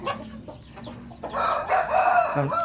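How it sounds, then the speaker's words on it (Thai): A fighting cock rooster in a backyard chicken pen gives one loud, close, drawn-out crow after a few softer clucking sounds, with no talking. "ไก่ที่คอกของผมนะครับ"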